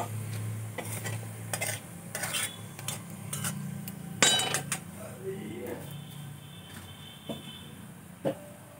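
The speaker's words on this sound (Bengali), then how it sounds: "ফোড়নটা ভালো করে ভেজে নেব যতক্ষণ না ফোড়ন থেকে সুন্দর একটা গন্ধ বেরোচ্ছে।" Whole spices and a dried red chilli temper in hot oil as a spatula stirs, a soft sizzle broken by clinks and scrapes of metal against the pan, with some speech at times.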